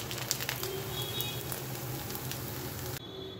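Pakoras frying in hot oil give a steady, dense sizzle that runs evenly and close for a few seconds before dropping away abruptly near the end, with nobody speaking.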